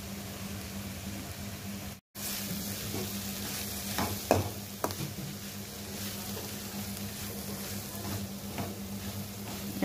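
Cabbage curry with chili powder being stirred in a pan, a quiet steady sizzle with a few clear spoon scrapes and taps, a brief dropout near the start and a faint low hum underneath.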